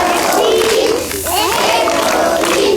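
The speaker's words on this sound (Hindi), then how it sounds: "ताली बजाओ" In a school classroom, a group of children claps together in a dense, loud burst that dips briefly and picks up again, mixed with their excited voices.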